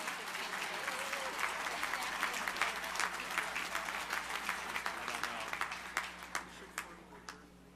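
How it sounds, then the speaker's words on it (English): Sustained applause fills a hall at a convention meeting: a dense crowd clapping steadily for several seconds, moderately distant, then thinning toward the end. "One more round of applause, please."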